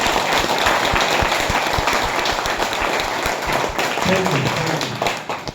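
Audience clapping at an RCM business meeting, a broad wash of hand claps with sharp individual slaps, sustained and fairly loud throughout, with voices mixed in.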